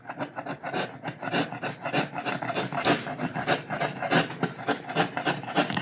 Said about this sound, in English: you can use a gouge. It will help you to remove even more wood.